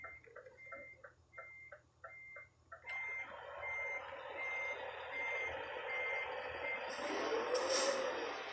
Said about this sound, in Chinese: 我当然来来练倒车啦